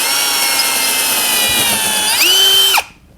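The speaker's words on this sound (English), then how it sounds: "take your drill with the appropriate drill bit, and you'll just drill" A power drill with a bit bores a hole through a helmet shell to fit an M-LOK piece, whining steadily and close for nearly three seconds, its pitch rising sharply just before it stops.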